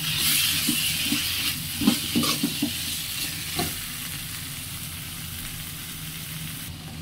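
Mashed eggplant sizzles in a pan while being stirred and fried, with soft scraping strokes and occasional clinks over a steady frying hiss.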